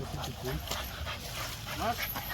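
A dog being trained to pull whimpers and yips in short, faint whines under a busy outdoor background, with people talking over it.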